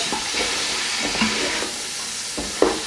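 Onion frying with minced beef in hot oil, a steady close sizzle and hiss with occasional stirring scrapes, no voices.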